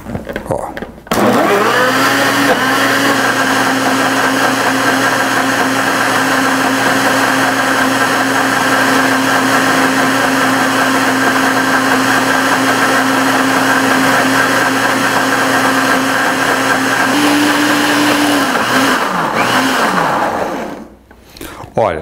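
Kitchen blender running steadily for about twenty seconds, blending herbs into a homemade cough syrup; a loud, continuous motor whir with a slight pitch rise near the end before it stops, no talking over it.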